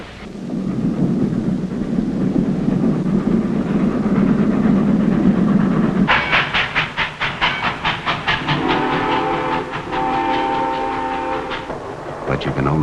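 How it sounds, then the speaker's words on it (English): A loud train rumbles past, deep and continuous, then a rapid clattering rhythm of wheels over track joints, followed by a sustained horn-like tone. "The one sure way to get someplace is on a train."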